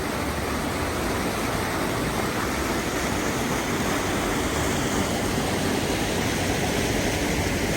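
Steady rushing water of the left fork of Red Creek at the Forks, where two creeks meet in Dolly Sods Wilderness in October, a continuous loud, broadband flow heard alone with no voices.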